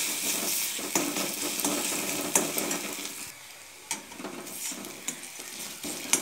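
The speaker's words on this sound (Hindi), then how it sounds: "मिला कर थोड़ी देर से भूनूंगी प्याज के साथ" Besan (gram flour) roasts with onion and garlic in a pan for a wedding-style vegetable curry. A soft sizzle is broken by irregular scraping stirs of the spoon, heard close with no voices.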